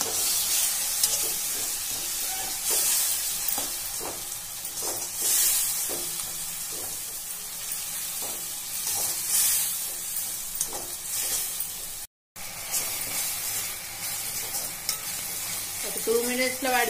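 Gongura leaves and green chillies fry in a pan with a steady sizzle while a spatula scrapes and stirs in repeated strokes, close and fairly loud, with a brief cut near the end and no talking.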